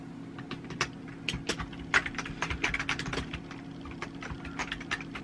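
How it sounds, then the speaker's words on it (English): Computer keyboard keys are tapped in irregular bursts of close, crisp clicks, with a low steady hum in the background and no talking. "i am just typing this up"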